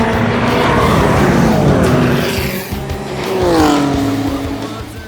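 Cars race on a track with a loud engine roar and tires squealing through the corners, the pitch sweeping as the cars pass close by.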